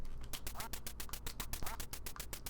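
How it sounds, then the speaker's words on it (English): In the NES game Duck Hunt, a duck's quacks repeat rapidly in a steady electronic rhythm, loud and continuous throughout. "Check out this hot Duck Hunt gameplay."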